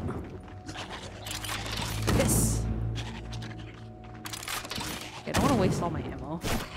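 Bursts of gunfire ring out during Death Trash gameplay, rapid popping volleys and scrapes layered over game ambience and music, with someone talking over parts of it.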